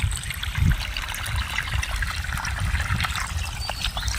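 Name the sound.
water trickling slowly from motor-pumped pipe into field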